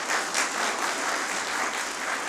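Audience at a Rajasthan DigiFest public finance session applauding the team, steady dense clapping throughout at moderate distance.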